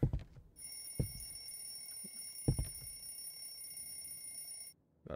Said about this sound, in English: I need to turn this phone off